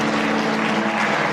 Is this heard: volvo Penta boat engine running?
no